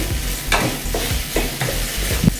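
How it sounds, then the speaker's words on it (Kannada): Okra frying on a high flame, a steady close sizzle broken by repeated scraping stirs of a spatula against the pan roughly every half second. "ಐ ಫ್ಲೇಮಲ್ಲಿ ಇಟ್ಕೊಂಡು ಚೆನ್ನಾಗಿ ಫ್ರೈ ಮಾಡ್ಕೋಬೇಕು"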